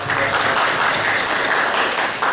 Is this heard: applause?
yes